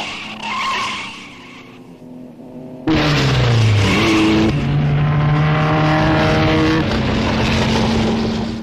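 Vintage Sunbeam and Fiat racing cars roar past on a period motor-racing circuit. Loud engine notes rise and fall in pitch as the cars sweep by one after another, with a brief lull before a louder, closer pass.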